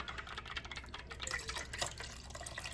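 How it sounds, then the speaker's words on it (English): Warm water being whisked inside a jar, faint quick sloshing and clinking whisk strokes against the glass, close and steady with no talking. "I'm whisking up that warm water so we can get everything we possibly can out of this jar"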